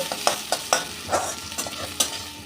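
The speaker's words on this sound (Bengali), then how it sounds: "এবার পেঁয়াজটা একটু ভেজে নেব" Onions sizzling in a hot pan with repeated scraping strokes of a spatula stirring them, a fairly quick, uneven rhythm, close by.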